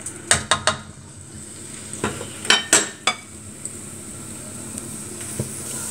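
Chopped garlic lands in a hot pan, giving a few sharp clinks and brief spatters at the start, then a soft, steady sizzle that fades to a quiet hiss. Nobody speaks.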